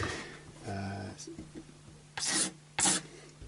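A hand scraper rasps lacquer off the neck of an Indian Encore AristoCat Strat guitar, a few short close scraping strokes with a voice briefly between them.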